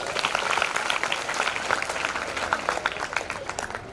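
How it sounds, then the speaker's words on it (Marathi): An audience at a school district-level science exhibition prize distribution claps steadily throughout, a moderately loud, dense patter of many hands. "प्रथमेश निकमसाठी जोरदार टाळ्या होऊ द्या"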